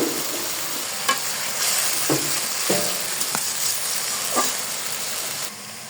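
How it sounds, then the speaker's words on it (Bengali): Spice paste sautés in oil in a pan for bata fish curry, a steady hissing sizzle broken by scattered scraping stirs and clinks of a spatula, fairly close. "মশলাটা ভালো মতো কষিয়ে নিচ্ছি।"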